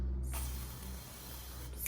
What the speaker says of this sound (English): spray our tray so that nothing sticks to it